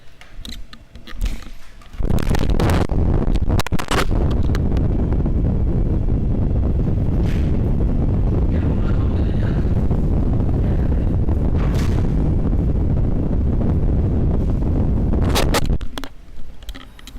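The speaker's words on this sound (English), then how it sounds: "A gust of freezing cold air rushes to greet you." A gust of freezing cold wind rushes in the video game Disco Elysium, a loud, sustained broadband roar that swells in abruptly and holds steady for about fourteen seconds before dropping away.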